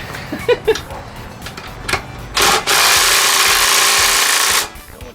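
Impact wrench loosening bolts on the swing axle of a 1967 VW Bus, sounding as a couple of short bursts followed by a sustained loud rattling buzz of about two seconds, close up, with brief talk before it.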